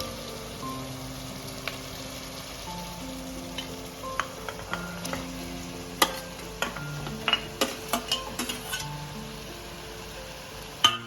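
Pieces of mutton head hit a hot pan for a Kolhapuri mundi rassa, giving a steady close sizzle and crackle with scattered sharp pops and spits, no voices over it.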